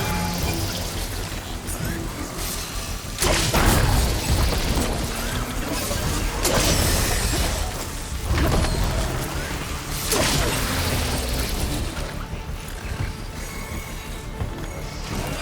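Explosions in the video game Horizon Forbidden West erupt as a series of heavy crashing bursts roughly every few seconds, loud and close, over a constant rushing, sizzling roar of destruction.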